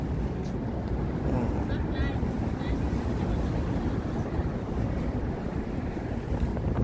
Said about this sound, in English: See a stiff breeze blowing way